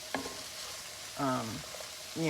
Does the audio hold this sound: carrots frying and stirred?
yes